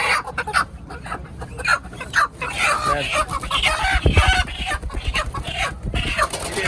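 Native chickens and roosters cluck and squawk loudly amid the bustle of the Narisha bazaar in Dohar, with people talking and haggling over the birds.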